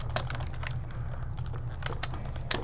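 Computer keyboard keys click rapidly and steadily during a Fortnite session on keyboard and mouse, close up over a constant low hum.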